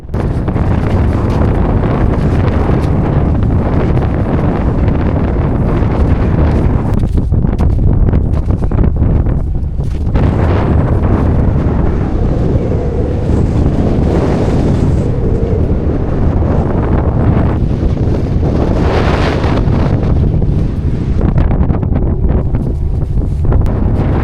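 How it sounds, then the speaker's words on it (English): Strong wind on Mt. Humphreys roars and buffets loudly and constantly, blasting straight into the microphone with deep rumbling gusts throughout. "Every step getting pushed back from the wind"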